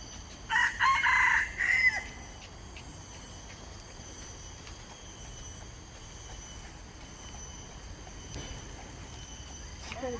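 Chickens at a nature park, with a loud rooster crow near the start over a quiet outdoor ambience, followed by faint scattered fowl sounds in the distance.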